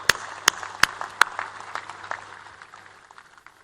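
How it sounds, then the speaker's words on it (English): A few sharp, distinct claps ring out in a university convocation hall, followed by scattered, thinning applause that fades away within a few seconds. "Let us offer our warmest applause to all the proud families and parents"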